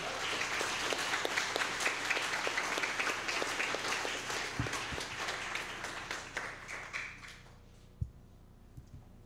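Applause from an audience at a school board meeting, a full round of many hands clapping that stays steady for several seconds, then thins to a few scattered claps and fades out.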